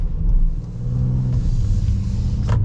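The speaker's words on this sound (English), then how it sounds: "you don't get the smooth delivery that this NA V6 has" A 2025 Honda Ridgeline HPD's naturally aspirated V6 engine hums steadily from inside the cab, a low, smooth rumble with little variation and no talk.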